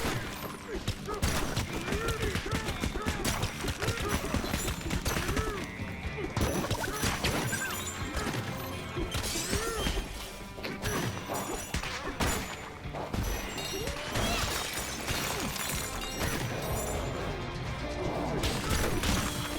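Donkey Kong pounding on a treasure chest in the Donkey Kong Bananza game, as a dense run of loud repeated smashing impacts and crunches over game music, with a voice talking through it.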